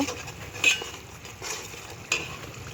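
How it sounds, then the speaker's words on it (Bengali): Spice paste with added water being stirred and sautéed in a pot for spiced khichuri, a soft bubbling sizzle under three distinct scraping clinks of a utensil against the pot, no voices. "এখন মশলাটা ভালোভাবে আমি কষিয়ে নেব"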